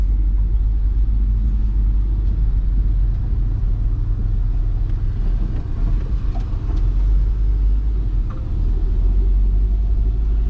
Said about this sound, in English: We are driving down the road, people.